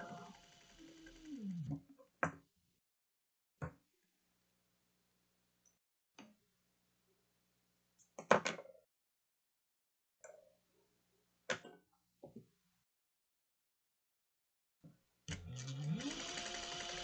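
Sewing machine top stitching the card slots of a cross-body sling bag, heard as several short separate bursts of stitching with quiet pauses between them, plus a longer run of stitching at the start and again at the end.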